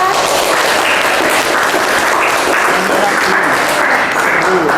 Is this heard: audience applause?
yes